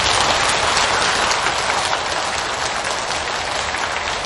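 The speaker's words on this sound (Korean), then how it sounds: "또 박수 한번 쳐주세요" Loud, dense applause from a Korean Buddhist temple congregation at a dharma talk honoring a visiting monk, a continuous crackling roar of many hands with no voices over it.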